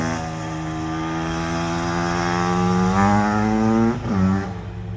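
A Suzuki Quadzilla 500 ATV engine runs close by after carburetor tuning, a strong buzzing idle that rises into a rev, dips sharply, then picks up again.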